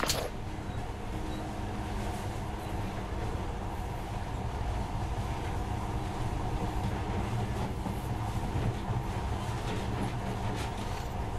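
A monorail train in the video game Metro Last Light Redux rumbles steadily along its track in a dense, continuous hum with faint rattles, without talking.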